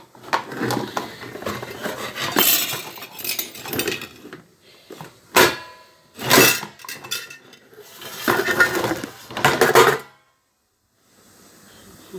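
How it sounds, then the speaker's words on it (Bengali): Metal clanks and scrapes as a lid is set on a pot of boiling pointed gourd, several sharp separate knocks and rattling bursts followed by a quiet stretch and faint simmering. "ঢাকনাটা ঢেকে দেব, তাহলে পটলটা সিদ্ধ হোক"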